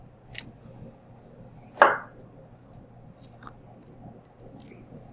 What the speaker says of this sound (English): I'm scoring the membrane on the bone